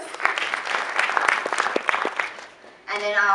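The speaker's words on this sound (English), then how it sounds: "So you can give her a round of applause" A round of applause from the audience at a township investment pitch event, steady clapping for a few seconds before fading, then a voice starts speaking.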